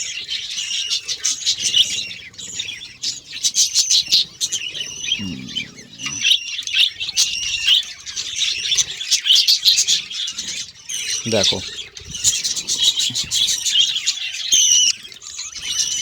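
A budgerigar with swollen, watery eyes chirps and squawks continuously while being held in a hand, with brief rustling and handling noises and occasional speech.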